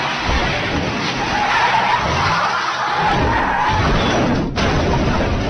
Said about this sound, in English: a truck, you know, coming right at you, speeding